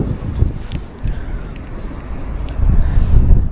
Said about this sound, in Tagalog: malakas po ang daloy ng hangin